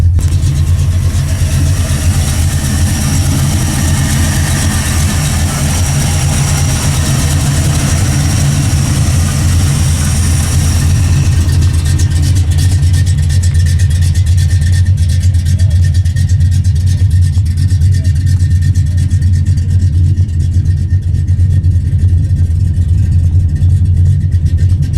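Loud, close AMX car engine with a steady, deep idle that runs throughout, the rumble shifting slightly in tone about halfway through.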